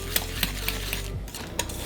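A spoon scrapes and stirs through thick mashed potatoes with milk in a pot on an induction hob over very low heat, with a steady rhythm of soft, repeated strokes, close and quiet.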